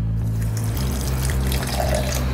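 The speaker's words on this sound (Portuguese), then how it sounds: "para ajudar a bater, vou colocar um pouquinho de água." A short pour of water into a blender holding garlic and fresh herbs, a close, steady splashing trickle with no talk.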